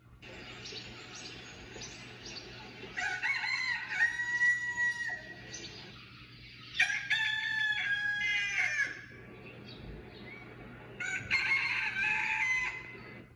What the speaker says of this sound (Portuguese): o som mais comum de despertador era o canto do galo